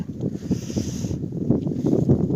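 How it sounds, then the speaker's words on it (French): Wind blowing outdoors while a cat tree is being built, a steady low gusty rumble across the microphone with faint handling knocks, no voices. "il y a du vent là"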